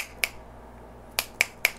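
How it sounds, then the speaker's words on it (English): Four sharp finger snaps: a single snap, a short pause, then three quick snaps in a row. Each is crisp, close and clear over a quiet room, with no talking. "I can literally snap my fingers like three times"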